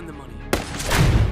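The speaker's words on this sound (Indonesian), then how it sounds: "terkena tembakan dari sniper musuh" A sudden loud sniper rifle gunshot cracks out in a film, followed by a burst of continued gunfire and a rumbling echo.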